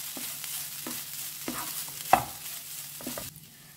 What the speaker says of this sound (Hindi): अब इसमें डालते हैं ये किंगफिश। अब इसे अच्छे से मिक्स करते हैं